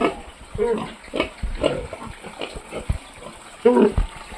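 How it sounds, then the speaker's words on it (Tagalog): A pregnant sow close to giving birth on a small farm grunts in several short, close, loud bursts, with splashing water faintly in the background. "Manganganak na ngayon si Mama Pig. Galit sa akin"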